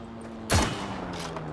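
A single sharp sniper rifle shot from Heroes & Generals cracks loudly over a low ambient hum, then fades into a brief echoing tail.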